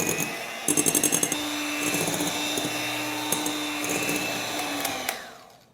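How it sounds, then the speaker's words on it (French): An electric mixer beats sugar with a steady high motor whine and rattling whirr, its beaters clattering against the bowl early on, then the motor winds down and cuts off near the end. "Je vais remettre le sucre ici et le battre à nouveau."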